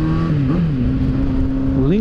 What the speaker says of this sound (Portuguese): E o escape dela tá daquele jeito.